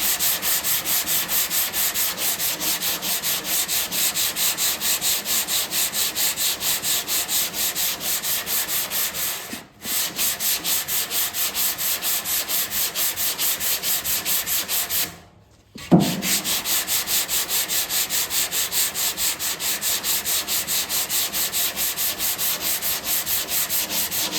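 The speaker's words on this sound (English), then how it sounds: "I'll run the orbital across the bottom" An orbital sander works body filler on a truck tailgate in a steady, continuous rasping whir, stopping briefly twice before resuming, close and without speech.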